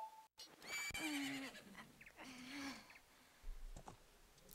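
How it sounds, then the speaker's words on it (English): A horse whinnies in the video game Zelda: Majora's Mask at the dawn of a new day, a bright tonal neigh near the start followed by a second whinny, with game clicks and effects around it. "My horse is here with me for some reason."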